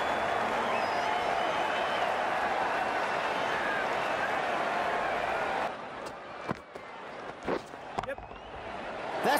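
Steady crowd roar and cheering from a stadium in the cricket video game Cricket 19, broad and constant, then dropping away to a quieter bed with a few sharp knocks and faint voices.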